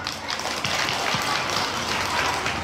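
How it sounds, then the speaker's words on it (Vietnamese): Steady crowd applause at a kindergarten ceremony, a dense wash of many hands clapping at once, sustained at even loudness throughout without pause. "cho một tràng pháo tay đối với nhà trường chúng ta hôm nay"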